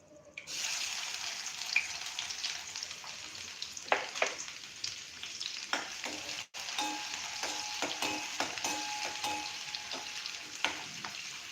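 Chopped onion sautés in hot oil with cumin, a loud, continuous sizzle broken by repeated stirring scrapes and taps of a spoon against the pan.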